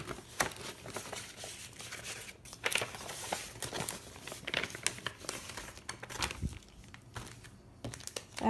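Crinkly plastic as a loose scrapbook layout decorated with branding strips is slid into a plastic pocket page, with continuous rustling and sharp crackles throughout.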